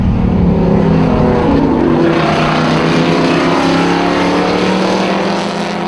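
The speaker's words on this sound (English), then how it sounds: "John Higgins in his Porsche 718 RSK" A vintage Porsche 718 RSK race car at the Amelia Island vintage grand prix roars loudly and continuously at full throttle, its harsh engine note filling the whole stretch as it races past.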